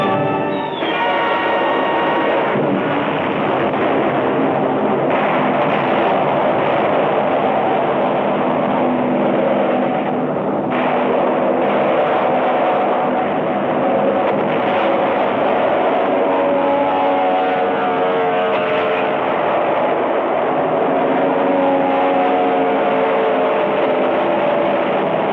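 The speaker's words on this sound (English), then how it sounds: "Jap land-based fighters and bombers reinforced their sea strength." WWII fighter and bomber aircraft engines drone loudly and continuously over sea near Leyte Gulf, a dense steady roar with shifting tones and no speech.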